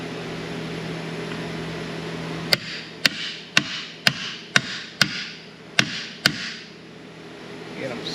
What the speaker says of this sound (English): Grab you a big hammer.